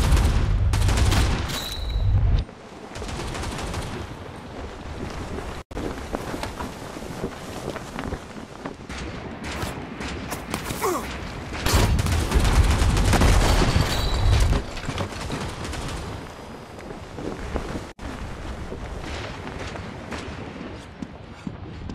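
Rapid gunfire and bursts of fusillade in a World War video game, loud and continuous across the scene, mixed with wind-like rumble and explosions-like thumps.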